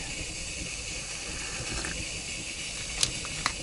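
A steady, soft hiss runs throughout from a camp pot heating as a kettle, with a couple of faint clinks near the end.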